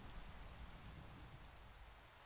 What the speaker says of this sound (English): Why is it raining here?